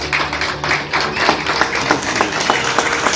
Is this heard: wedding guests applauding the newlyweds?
yes